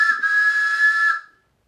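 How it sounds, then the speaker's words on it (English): A steady train whistle sounds alone for just over a second with a strong, clear tone and an airy hiss, then cuts off quickly into silence. "You're right if you guessed it was the train whistle."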